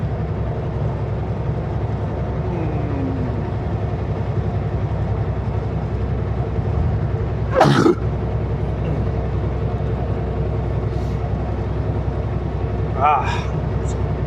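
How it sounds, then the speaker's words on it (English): A single sharp sneeze bursts out inside a truck cab over the steady low engine rumble, followed by a fainter snort or sniff a few seconds later. "I'm gonna sneeze."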